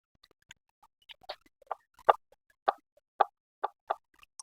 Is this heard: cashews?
no